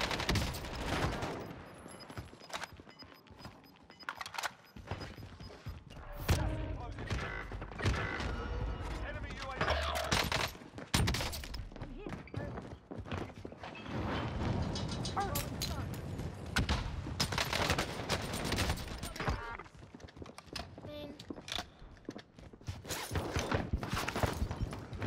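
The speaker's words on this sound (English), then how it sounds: "the nail gun is insane, bro" Rapid bursts of nail gun fire in the shooter game Warzone on Rebirth Island, dense repeated shots in loud clusters across the stretch, with game effects and a player talking over parts of it.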